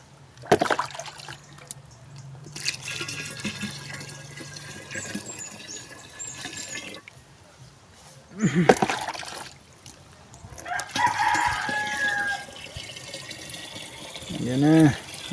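A weak stream of water runs from a tap into a container, a soft trickle and splash that fades in and out, with stretches of people talking over it and some nearby handling noises.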